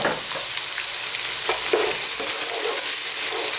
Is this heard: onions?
yes